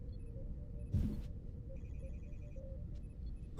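A mobile phone ringtone sounds softly for about a second as a repeating electronic trill, set against a steady low background rumble, with a short rustling noise just before it.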